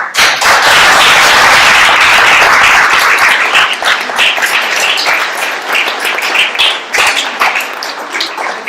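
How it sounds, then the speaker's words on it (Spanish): Conference audience applauding, a loud, dense burst of clapping with sharp individual claps popping out, sustained for several seconds before thinning slightly toward the end. "Pues vamos a darles un aplauso."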